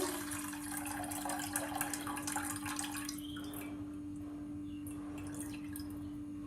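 Milk pours into a saucepan in a continuous liquid splash for about three seconds, then fades to a quieter trickle, close by over a steady hum with no speech.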